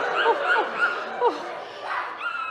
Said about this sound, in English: I would hear often the noise of dogs barking